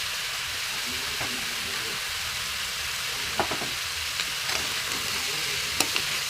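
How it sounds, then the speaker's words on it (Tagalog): Pork menudo frying in a pan, stirred with a utensil: a steady soft sizzle runs throughout, broken by a few light scrapes and clicks from the stirring, with no talking. "Haluin natin."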